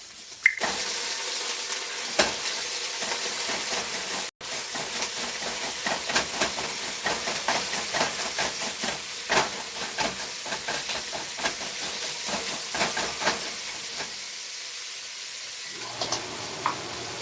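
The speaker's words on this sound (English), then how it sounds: "I'm cooking our beef." Beef sizzles loudly in a pan, a steady close hiss with scattered pops and crackles running throughout, with no talking.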